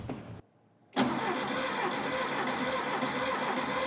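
A Volkswagen Beetle engine with no spark cranks continuously after a short pause, the starter churning steadily and loudly without the engine catching.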